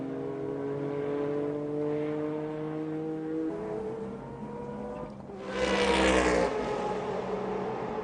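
A Nissan GT1 race car at Le Mans in 1997 drones with a steady engine note that fades slightly, then swells into a louder, rougher roar as it pulls away.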